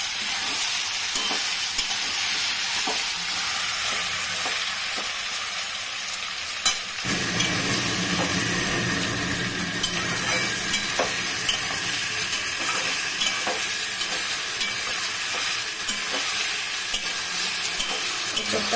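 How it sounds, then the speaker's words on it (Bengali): Green jackfruit stir-fried in a pan for a jackfruit and prawn dish, a constant close sizzle with regular spatula scrapes, growing louder and fuller midway, no talking. "এঁচোড়টা ভালো করে ভেজে নিচ্ছি সুন্দর করে একদম।"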